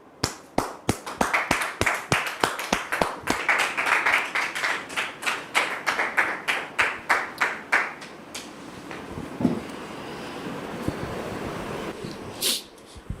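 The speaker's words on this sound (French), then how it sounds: "Merci de les recevoir sous vos applaudissements." A studio audience welcomes guests with applause: a quick, steady run of sharp, loud claps for about eight seconds, then it thins to a few scattered claps and quieter room noise.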